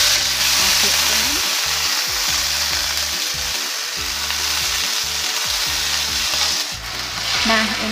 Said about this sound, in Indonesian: Setelah minyak panas, tumis sayur tauge,